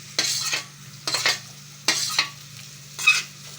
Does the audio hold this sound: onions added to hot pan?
yes